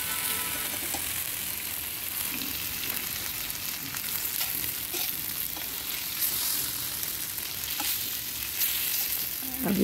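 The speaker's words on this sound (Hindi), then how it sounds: "पाँच मिनट हमने ढककर पकाया, फ्राई किया है। मछली फ्राई हो चुकी है।" Fish for a fish curry fries in a pan with a dense, steady sizzle that fills the whole stretch, broken by occasional soft stirring scrapes and no talking.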